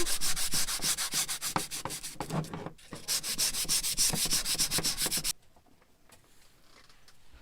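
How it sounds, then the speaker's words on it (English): Steady rhythmic hand sanding of wood, brisk back-and-forth rubbing strokes, close and loud, then softer, slower strokes near the end. "And then sand up here as well."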